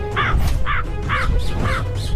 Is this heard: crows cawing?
yes